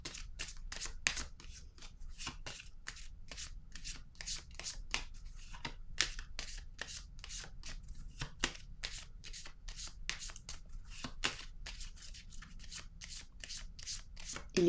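Tarot cards shuffled and drawn, a steady run of soft, crisp card flicks and snaps, close and fairly quiet, with little or no talk.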